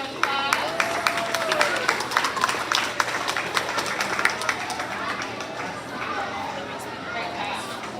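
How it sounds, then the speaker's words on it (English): An audience at a first grade awards ceremony gives a class a round of applause: dense, continuous clapping from a crowd with chatter and children's voices mixed in, fairly loud and close. "Let's give Miss Lucy's class a round of applause."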